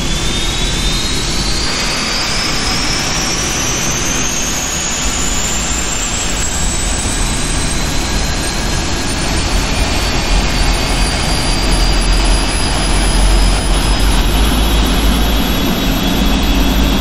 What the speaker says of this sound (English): can start engines 2 and 3 now